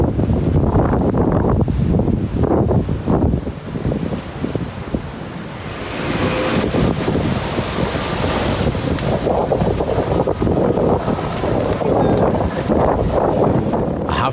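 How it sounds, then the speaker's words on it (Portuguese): Violent surf and storm wind batter the coast of Malta during a rare Mediterranean storm with gusts up to 101 km/h and hail, a loud, continuous roar of crashing waves and wind buffeting the microphone. "Ráfagas de vento de até 101 km por hora, granizo e ondas violentas causaram sérios danos."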